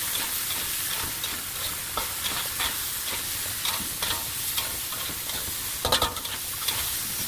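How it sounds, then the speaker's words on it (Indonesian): Spices stir-fry in a pan with a continuous loud sizzle, broken by the repeated scrape and clatter of a spatula stirring. "kita tumis terus kita tumis sampai sedikit kering, bumbunya meresap"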